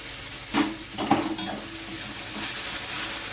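Spice masala with tomato paste fries and is stirred in a pan, a soft steady sizzle with a few scraping strokes of the spoon, close and fairly quiet.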